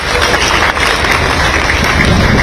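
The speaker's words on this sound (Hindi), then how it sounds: "इनके लिए आपको जोरदार तालियां बजानी है।" At an Independence Day award ceremony, a large audience claps loudly and steadily with dense, continuous applause and no break for the whole stretch.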